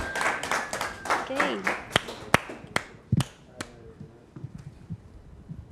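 At a live musical show, a small group claps for a singer taking the stage, with scattered sharp hand claps and snaps that thin out into sparse, isolated claps while people talk over them.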